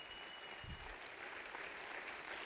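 Audience clapping at a motivational speech in India, a steady wash of applause held at an even level for a couple of seconds, distant and faint, with no voices over it.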